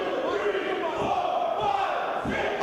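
Wrestling crowd at an NWA Championship match in Hollywood cheering and chanting for the challenger, loud rhythmic crowd roar with ring thuds and bodily impacts underneath.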